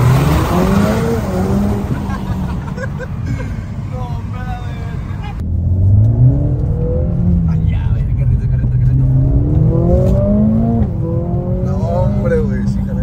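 A Mercedes-AMG A45 and a Corvette C8 in a street drag race, engines revving and accelerating hard with rising gear pulls, loud and close, while people shout and talk over them.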